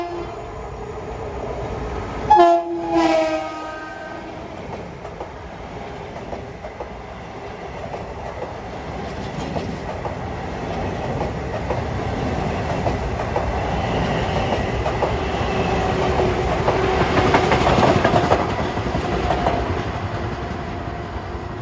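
LIRR MU commuter electric trains pass Farmingdale station at evening rush hour. A short horn blast sounds early, then a long, steady rumble of wheels and motors swells and builds toward the end.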